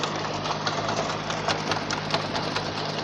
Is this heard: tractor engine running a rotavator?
yes